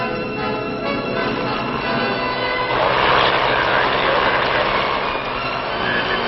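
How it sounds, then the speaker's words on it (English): Training helicopters lifting off to fan out toward stage fields across the countryside, heard as a loud, steady, close engine and rotor roar that swells midway and stays dense throughout. "the copters take off to fan out toward the various training fields or stage fields scattered throughout the countryside"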